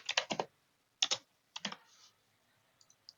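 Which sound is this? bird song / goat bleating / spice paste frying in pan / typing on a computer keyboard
typing on a computer keyboard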